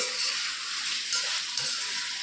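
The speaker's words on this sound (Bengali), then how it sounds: "দেখুন পেঁয়াজটা ভালোই ফ্রাই হয়েছে।" Onions frying in ghee in a pan give a steady, close sizzle that runs on alone without a break, with a faint scrape or stir partway through.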